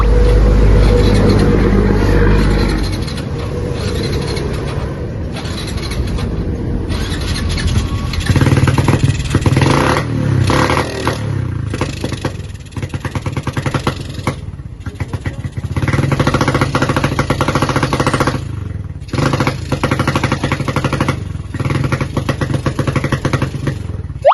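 A Suzuki Smash 115 motorcycle engine test-runs after fitting a new 30mm carburetor, idling and revving loudly up close with uneven throttle blips, clattering mechanical noise and short dips in between.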